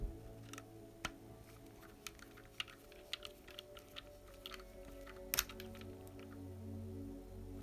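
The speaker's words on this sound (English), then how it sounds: "now we can screw this in" Small screw being driven into the plastic chassis of a Tamiya Fiat 131 Abarth Rally model on an MF-01X chassis, heard as a string of faint ticks and clicks with one sharper snap near the end, close up over low background hum.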